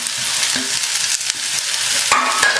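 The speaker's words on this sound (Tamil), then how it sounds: "லைட்டாக வதங்கின பிறகு புதினா லைட்டாக போட்டு ஒரு கிளறி இறக்கிடுங்க." Mint leaves being sautéed and stirred in a hot pan for a tomato-free mint chutney: a steady close sizzle with a few spoon scrapes and stirs, and no voices.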